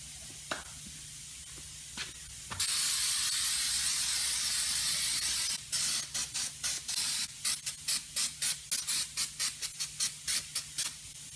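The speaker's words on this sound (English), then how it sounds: "I'm gonna hit it real quick with some brake clean." Brake cleaner is sprayed onto wheels from an aerosol can: one continuous hissing blast of about three seconds, then a rapid series of short, evenly spaced spurts, close and clear with no talking.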